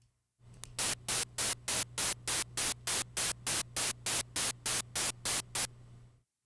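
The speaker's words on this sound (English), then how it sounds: "There are portions of the signal where our square wave LFO is changing the amplitude to zero." Steady hissing noise chops on and off in a fast, even rhythm from a square-wave LFO tremolo effect, about fifteen hard-edged bursts over a low hum.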